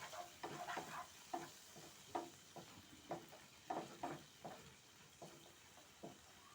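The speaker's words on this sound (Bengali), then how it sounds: "চিকেনগুলো ভালোভাবে কষিয়ে নেব।" Chicken stir-fried with spices for chow mein sizzles softly in a pan while a utensil scrapes and stirs in an irregular rhythm of repeated strokes. The sound is fairly faint and close.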